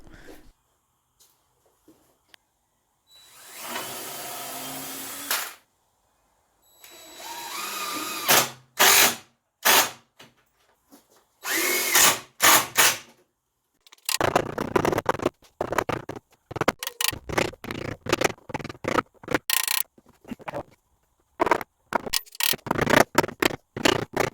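A power drill drives screws down through a board clamped onto a DIY storage tote workbench, with repeated loud bursts of whirring separated by short pauses, close and without talk.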